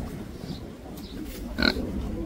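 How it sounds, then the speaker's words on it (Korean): Jeju black pigs grunt faintly in a traditional Jeju Island village, with a single louder snort or squeal near the end over a noisy outdoor background. "돼지가 많긴 해"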